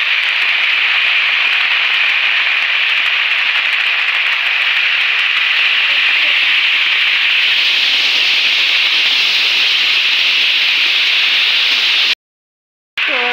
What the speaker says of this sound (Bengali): তো এই যে দেখো লাউটা এখন ঢেলে দেওয়া হলো।